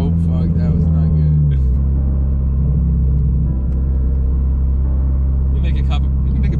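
A modified Toyota GR86 idles with a deep, steady exhaust rumble after the revs drop, close by, with a couple of faint crackles near the end while people talk over it.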